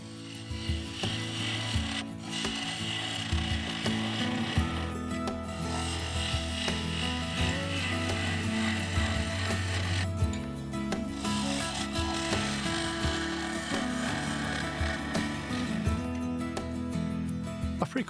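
A mahogany beaded bowl being turned on a wood lathe: continuous rough scraping and rasping of the cutting tool against spinning wood over the motor's steady hum, with a couple of brief pauses in the cut.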